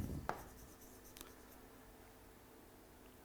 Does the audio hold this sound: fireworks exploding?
no